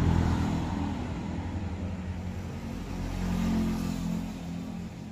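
A motor tricycle's engine drones on a road in the Philippines, a steady mid-pitched rumble that swells as it passes and then eases off, loud and close with no voices over it.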